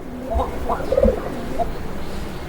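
A male Raj-golla pigeon cooing close by, giving a few short, soft tonal coos over quiet background noise.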